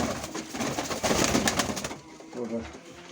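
A grey Mykolaiv breed pigeon and others coo softly against a rustling, flapping background, with a low cooing phrase rising again toward the end.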